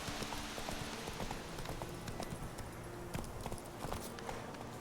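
Horse hooves clip-clop at a steady walking pace in The Witcher 3, a faint, continuous rhythm of soft hoofbeats over a busy background wash.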